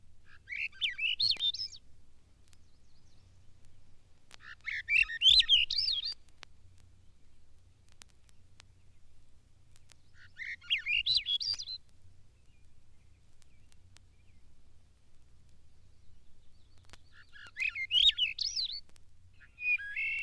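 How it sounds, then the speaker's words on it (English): A Swainson's thrush sings four separate upward-spiraling, flutelike phrases spaced several seconds apart, clear and moderately near against a quiet background with a faint low hum. "Swainson's thrush."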